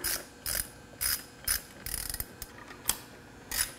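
Ratchet wrench tightening bolts on a mold, a run of sharp clicking bursts about every half second, close and fairly quiet with no talking.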